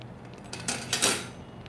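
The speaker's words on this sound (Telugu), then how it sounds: "ఇప్పుడు ఇందులో కారం వేసుకుందాము." A spoon clinks and scrapes against a pan as chili powder goes into a batch of tomato chutney, a few short metallic clatters that are fairly faint and without talk.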